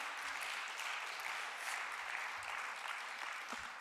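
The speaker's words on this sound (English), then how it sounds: "Can we get another round of applause for Reverend James?" A church congregation at a Sunday service applauding Reverend James, a dense, even crackle of many hands clapping steadily throughout, no voices over it.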